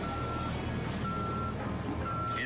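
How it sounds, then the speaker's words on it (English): A truck backs up with its reversing alarm giving steady, evenly spaced beeps, heard at moderate distance over a dense, rumbling engine and street noise. "But he throws it in reverse and heads straight for a squad car."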